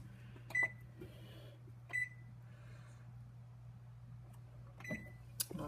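An oven timer being set gives a few short, faint electronic beeps spaced apart over a steady low hum, with no talking.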